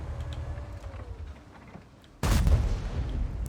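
BZ-58-2 tank gun firing in a video game, a single sharp heavy boom midway that cuts through quieter rumbling engine background, then decays.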